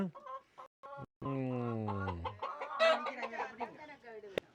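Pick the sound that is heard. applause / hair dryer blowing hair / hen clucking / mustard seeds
hen clucking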